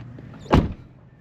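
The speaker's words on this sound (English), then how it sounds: "Go ahead and pull this guy off. It's your front door trim" Trim panel on the front door of a 2007 Chevrolet Tahoe popping loose as it is pulled off, a single sharp snapping burst of clips releasing, close and brief, with quiet surroundings before and after.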